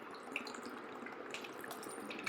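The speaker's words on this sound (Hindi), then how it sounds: "नमक डालने के बाद पोहे को पानी इतना डालना है कि पानी जो है ऊपर आ जाए" Water poured over flattened rice (poha) and salt in a bowl, a steady soft splashing and trickle lasting a couple of seconds, fairly quiet and continuous with no voices.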